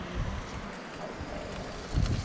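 Wind buffets the microphone on the south coast, a steady close roar with gusty low rumbles swelling near the end.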